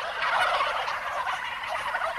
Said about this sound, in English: surrounded by about a thousand turkeys